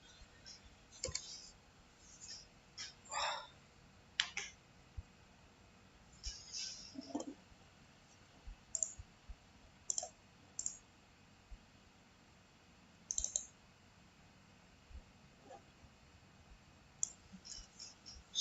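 Sharp computer mouse clicks, some in quick pairs, come while a portable speaker is designed in Fusion 360. They are sparse and faint and fall between short stretches of quiet background noise.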